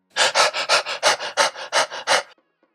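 A voice imitates hyperventilation, the rapid anxious breathing of a panic attack: about nine quick, loud, breathy pants in an even rhythm, close to the microphone, then silence.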